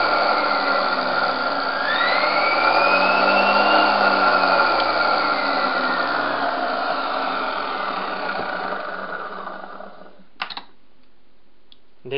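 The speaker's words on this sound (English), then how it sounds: "That's how I have wired up this series wound brush DC motor" A series-wound brushed DC motor driven by a Kelly KDZ48400 controller whines steadily and loudly, its pitch rising and then gliding down as it spins, before it winds down and stops near the end with a few faint clicks.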